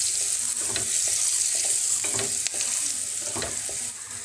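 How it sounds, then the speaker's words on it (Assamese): Onion and spices frying in a pan for aloo paratha filling, a close steady sizzle broken by scraping stirs of a spoon every second or so, with no speech. "আৰু এইখিনি এতিয়া অকণমান মই ভাজি ল'ম।"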